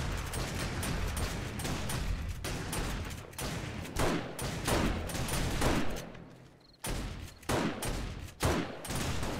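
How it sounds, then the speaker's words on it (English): Shotgun fire in the video game 7 Days to Die, several guns firing in unison as a dense run of loud, booming blasts with brief gaps, close and continuous. "we're just laying into him with a shotgun too"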